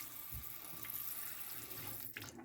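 A just-repaired kitchen faucet runs steadily with both hot and cold turned back on, a continuous close hiss of flowing water splashing into the sink, with a brief gurgle near the end.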